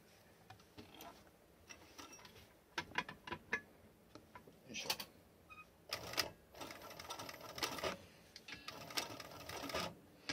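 Leather being sewn at a workbench, faint irregular clicks and taps of the work, close by in a quiet room.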